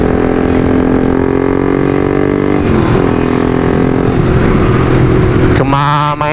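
A new Honda CB150R motorcycle on a test ride hums steadily at close range, its engine note shifting with throttle changes before a sudden loud rev climbs sharply at the end.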